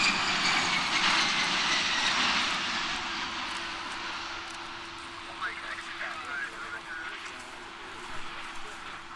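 An aircraft engine drones at an air show, loud at first and then easing into a steady, sustained hum with a constant tone, while voices murmur underneath.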